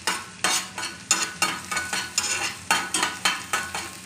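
Food frying in a pan is stirred in a brisk, regular rhythm, each scrape of the utensil a sharp close rasp over a constant sizzle, with no talk.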